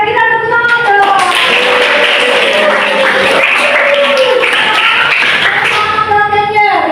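A classroom of students clapping hands together, a dense, close wash of applause sustained throughout, with tonal sounds like singing or chanting voices mixed in over it.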